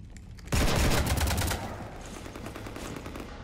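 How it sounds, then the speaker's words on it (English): Loud burst of rapid gunfire strafing a ship in the video game Mass Effect 3, a dense fusillade erupting after a quiet start and then tapering into a lingering rumble and scattered rattling. "You want to stop shooting up my ship?"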